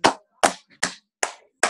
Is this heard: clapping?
yes